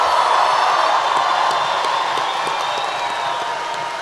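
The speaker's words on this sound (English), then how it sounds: "one more round of applause for the class of" Graduating class of 2019 draws applause and cheering from a large commencement crowd at North Hunterdon High School, a dense, continuous wash of clapping with scattered whoops, steady throughout and tapering slightly at the end.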